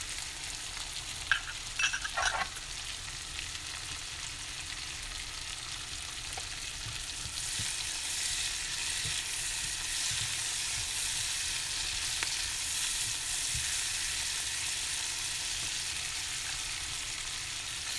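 Bell peppers of several colors, cut into quarters, fry in a pan with a steady soft sizzle that grows brighter and louder partway through, with a few light stirring scrapes early on and no one talking.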